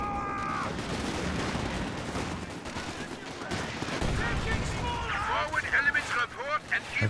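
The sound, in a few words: gunfire from Panzer Jaegers in video game Company of Heroes 2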